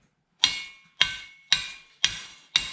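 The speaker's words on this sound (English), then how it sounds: "I just take a hammer and tap the foot a little bit" A hammer taps the metal foot of a wire rabbit cage, with five sharp, ringing metallic strikes evenly spaced about half a second apart. Each strike is close and decays briefly, with silence between the hits.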